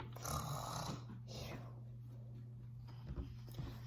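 A voice imitates snoring judges while reading a story aloud, a soft drawn-out snore held under a steady low hum, followed by a few quieter breaths.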